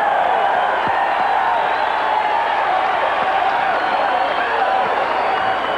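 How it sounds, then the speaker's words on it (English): A crowd at a boxing match gives a loud, sustained ovation, a dense wash of applause and cheering that holds steady throughout. "Thunderous ovation from the crowd."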